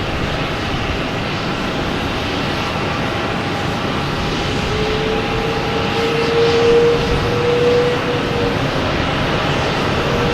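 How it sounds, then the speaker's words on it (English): A Delta Embraer E170 regional jet rolls down the runway for takeoff at Boston Logan, a broad, steady roar of engines building slightly in strength, with a faint rising whine midway, heard from a distance. "Now it's on the roll. Delta heading to Newark. E170, flight 5718."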